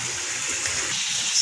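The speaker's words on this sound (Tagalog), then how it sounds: "Madaming mga bula-bula dito." Water bubbling and gushing in a backyard koi pond fed by a pond pump, a close, continuous splashing wash with no voices.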